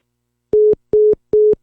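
Phone call disconnect tone: three identical short electronic beeps in a steady rhythm, loud and clean, each followed by silence.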